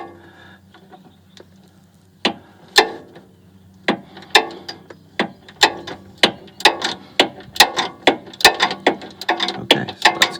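A hand ratchet works loose the rear lower control arm bolt on a 1997–2004 Porsche 986 Boxster, sharp clicking bursts starting sparse and then speeding into a steady fast series of close, loud pawl clicks, with no talk.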